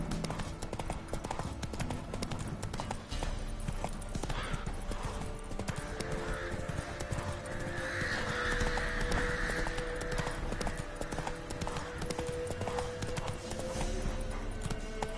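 Hoofbeats of Roach, the horse in The Witcher game, galloping in a continuous rhythmic clip-clop under a layered game soundtrack, with a brief whinny-like swell midway.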